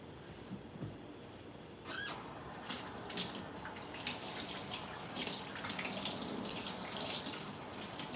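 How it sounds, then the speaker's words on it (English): Faucet water running into a kitchen sink as it is rinsed out, a soft continuous splashing rush that swells slightly after a brief clatter, quiet and close with no speech. "I'm just going to rinse the sink out"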